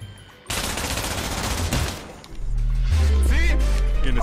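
Dense, loud automatic gunfire from a VR shooting game rattles without pause, then gives way to a deep booming rumble with voices and shouting over it.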